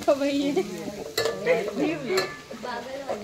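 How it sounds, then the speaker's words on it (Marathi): Onions with green chilies sauté in a pan at a camp kitchen, browning with a soft sizzle and stirring scrapes while voices murmur faintly in the background. "आता कांद्याला थोडंसं ब्राउनिश होईपर्यंत आम्ही परतवून घेतो।"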